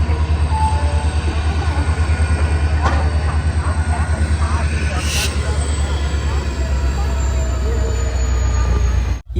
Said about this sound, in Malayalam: ഖടഗ്പൂരിൽ നിന്ന് ഇതാ ട്രെയിൻ എടുത്തിരിക്കുകയാണ്